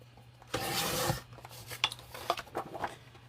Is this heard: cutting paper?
yes